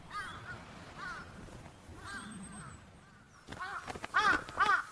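Jungle crows squabble in a snowy Hokkaido winter, with harsh caws coming in short bursts, faint at first and then louder and more crowded near the end.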